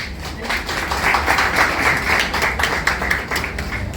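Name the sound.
audience applause for the festival director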